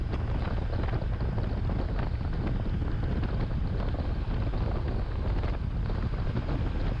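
Motorcycle cruising at around 100 km/h on a bypass road in Lombok, a dense, continuous roar of wind buffeting the microphone over the engine drone, loud and unbroken for the whole stretch.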